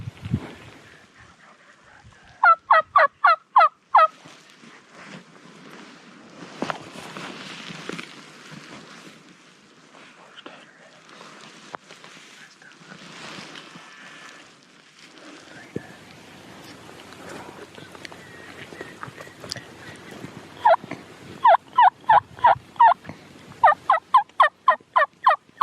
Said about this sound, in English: Turkey just started gobbling behind us as we were working this bird below us.